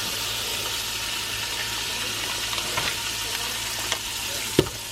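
Melting butter stirred in a pot while preparing a shrimp boil, a steady soft sizzle with faint scraping and a sharper clink near the end.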